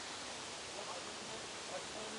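A waterfall in the Kazdağları hills near Yeşilyurt gives a steady, broad rushing hiss, faint and distant, continuous and unchanging throughout.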